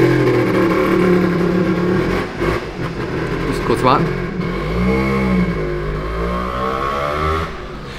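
Vespa PX or PK scooter, freshly running again after carburetor trouble, revving outdoors: engine rises and falls in pitch over several seconds, with someone speaking briefly over the motor.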